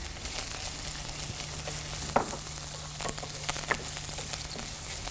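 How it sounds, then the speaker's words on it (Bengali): Chopped onion and green chili sizzle in hot oil in a pan, a steady close frying hiss with a few clicks of stirring, no speech. "পেঁয়াজ কুচি আর কাঁচামরিচ কুচি দিয়ে দিচ্ছি।"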